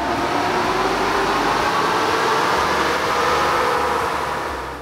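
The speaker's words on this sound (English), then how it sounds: "We're gonna go ahead and run our Silverado on the dyno to establish some baseline numbers" A Chevrolet Silverado 1500 engine of the 2014-2018 generation runs on a chassis dyno in stock form, a steady loud broadband roar with a low droning hum, sustained throughout with no talk.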